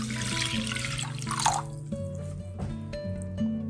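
Water being poured into a pot for kanji, a carrot and amla probiotic drink, giving brief splashing and trickling over a busy kitchen background of steady hums and tones.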